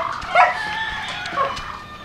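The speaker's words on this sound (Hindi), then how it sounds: "कुछ फ्री रेंज में हैं मुर्गियां हमारे पास, ये जैसे आप देखिए।" Free-range chickens cluck on a poultry farm, with several short clucks and squawks at close range over a low farmyard background.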